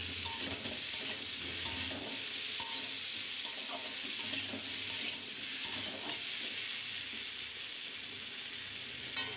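Pumpkin pieces fry with salt and turmeric in a pan for a Bengali pumpkin and prawn curry, giving a steady, close sizzle with stirring scrapes throughout and no talking.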